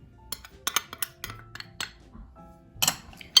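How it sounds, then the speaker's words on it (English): Spoon mixing peach pie filling with maple syrup, vanilla, nutmeg and cinnamon in a bowl, giving a quick series of close clinks and taps against the bowl, brief and irregular. "I'm gonna go ahead and just give this a nice mix and make sure I have everything nice and distributed here"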